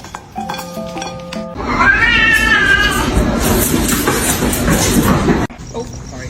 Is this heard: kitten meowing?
yes